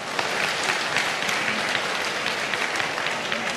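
An audience at a political party fundraising dinner claps steadily and densely for several seconds, a full crowd applauding without pause.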